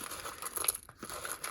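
Tarot cards being shuffled by hand, a soft papery riffle and crinkle in quick irregular bursts, close and quiet, with a brief pause midway.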